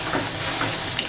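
Ground onion chutney paste fries in hot oil with curry leaves and browned garlic, giving a steady, close sizzle and crackle with no talking.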